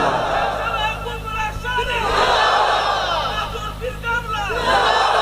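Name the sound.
crowd chanting in response to takbir call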